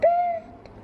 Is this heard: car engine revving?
no